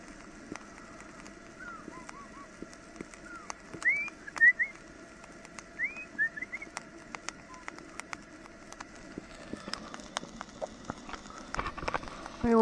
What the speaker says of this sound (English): he makes a really weird sound. I don't think I've ever seen a bird like that before.